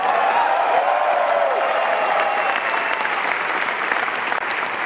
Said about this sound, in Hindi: कितने लोग तालियां बजाएंगे, कितने लोग चिल्लाएंगे।